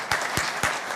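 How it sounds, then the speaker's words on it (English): Clapping and cheering break out for honorees at a regular city council meeting, a steady, fairly close round of applause with no talking over it. "So a round of applause."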